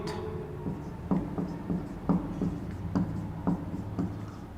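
Chalk writing a heading on a classroom board, a series of short tapping strokes and scratches at an irregular pace, close and moderately quiet.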